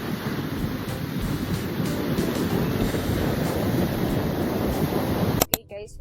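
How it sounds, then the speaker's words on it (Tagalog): Strong ocean waves pound the beach at Liwliwa, Zambales, a continuous loud, close roar of surf that cuts off with a brief clatter at the end. "tignan nyo kung gaano kalakas yung alon"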